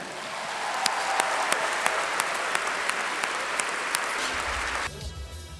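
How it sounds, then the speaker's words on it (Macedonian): An audience at the Zlatna Buba Mara 2019 music awards show applauds a band: dense, steady clapping that fills most of the clip, then cuts off to quieter room noise. "Ве молам, огромен аплауз за музичко откритие на годината"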